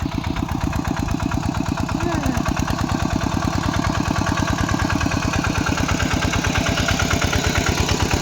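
A tractor engine chugs steadily and loudly close by, its rapid, even pulsing going without a break the whole time.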